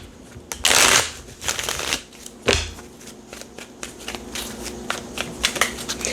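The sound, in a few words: tarot cards being shuffled and dropped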